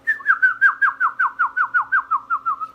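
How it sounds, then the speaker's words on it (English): A bird gives a rapid, steady series of about a dozen descending whistled notes, loud and close, with no other sounds around it. "I hear a bird."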